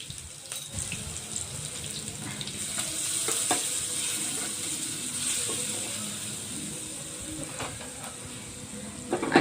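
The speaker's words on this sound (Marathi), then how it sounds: "आता आपल्याला याचा तडका मारायचा आहे। आणि इथे जिरे राई घेतलेला आहे तडक्यासाठी" A tadka of cumin, mustard seeds, chili and curry leaves sizzles in hot oil for buttermilk pakoda kadhi, giving a close, continuous bright hiss with occasional pops and clinks and no talk.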